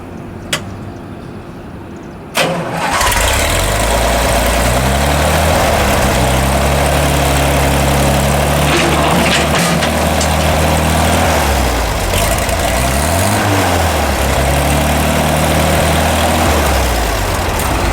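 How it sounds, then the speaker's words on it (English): An International Harvester 606 gas tractor with a loader cranks briefly, catches after about two seconds, then settles into a loud, steady, low rumbling idle with a faintly uneven beat that runs to the end. "I'm gonna fire up the International 606 for you."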